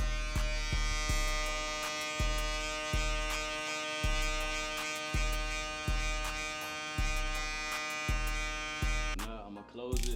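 Electric hair clippers buzz steadily with a high whine during a self haircut with a number 1 guard, making repeated cutting passes marked by rhythmic low thumps roughly every second, then the motor cuts off near the end.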